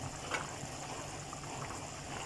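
Hot water poured into frying rice and spices for chana dal pulao, a steady faint hissing, bubbling wash with no talk.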